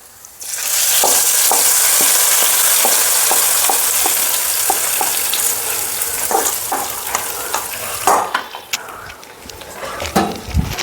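Roasted coconut paste poured into a sizzling egg curry and stirred, with a loud burst of frying followed by scraping spoon strokes and clinks against the pan.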